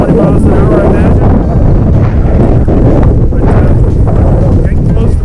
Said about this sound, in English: Here we are entering into Martensdale itself, and boy, the wind was really moving.